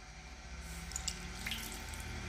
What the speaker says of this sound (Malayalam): ഒരു തുള്ളി വെള്ളം ഒഴിച്ചു കൊടുത്തിട്ടുണ്ട്